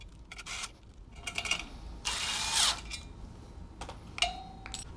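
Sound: ratchet tightening clutch pressure plate bolts, MINI Cooper S

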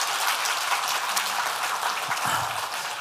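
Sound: audience applause

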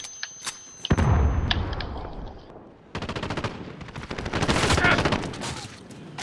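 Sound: gunfire in video game Call of Duty: Modern Warfare

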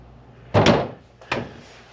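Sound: door closing with budget door closer from Amazon

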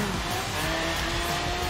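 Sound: car drifting in video game Forza Horizon 3

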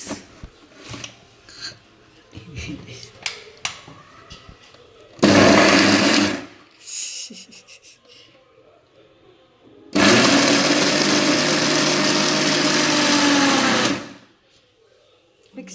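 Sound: mixer grinder running

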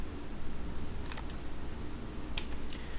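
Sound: mouse clicking in website editor settings

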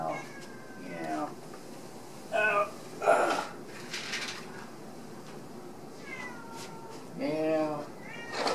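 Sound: cat meowing

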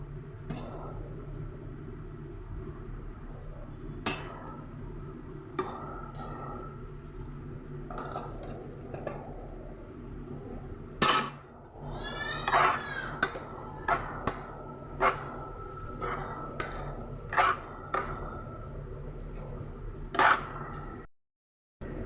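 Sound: mixing cooled rice for lemon pulihora in a vessel

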